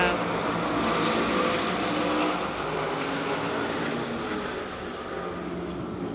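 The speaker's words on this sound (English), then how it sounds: "You can hardly hear my voice over the roar of the cars." Loud, continuous engine roar from vintage race cars at the Rolex Motorsports Reunion in Monterey fills the air, a dense droning wash that swells and eases slightly, with a voice speaking underneath.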